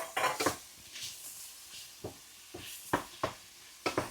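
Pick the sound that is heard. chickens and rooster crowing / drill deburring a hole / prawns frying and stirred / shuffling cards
prawns frying and stirred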